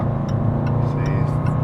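A Range Rover Sport pulls steadily at half throttle on a highway on-ramp, a loud, constant engine drone heard from inside the cabin with no talk over it.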